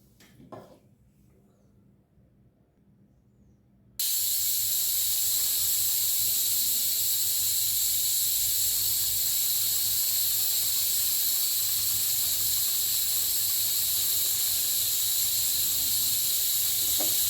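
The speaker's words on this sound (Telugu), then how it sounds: "మనకు ఒక్క విజిల్ వచ్చింది" A pressure cooker on a stove releases its whistle, a sudden loud, steady hiss of escaping steam that starts after a few quiet seconds of faint kitchen clatter and then keeps going, close and unbroken.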